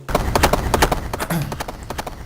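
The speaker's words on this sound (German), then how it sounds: "Ah, ein Pferd." Horse hooves clip-clop in a quick, steady galloping rhythm in the Sega Mega Drive game Shinobi 3, loud and up front with game sounds around them.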